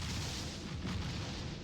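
A distant explosion comes as a dense, loud, continuous rumble that fills the whole short stretch with deep, roaring noise and no clear single crack.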